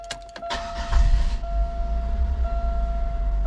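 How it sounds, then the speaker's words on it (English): A 2005 Buick Park Avenue with a 3800 V6 turns over and fires, a short burst of cranking followed by a steady low idle rumble with a faint electronic tone above it. "I'm gonna crank it up so I can show it"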